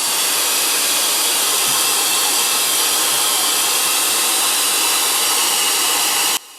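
Jet dryer blower air duster fitted for inflating, running as a loud, steady rushing whoosh of air that holds constant for several seconds and then cuts off abruptly.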